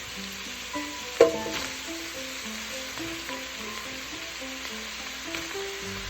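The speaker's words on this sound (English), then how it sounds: "now I'm gonna go ahead and just mix everything in and let it cook" Sopa de fideo sizzles steadily in a pot while it is stirred, with occasional scraping knocks from the spoon over a constant frying hiss and soft background music.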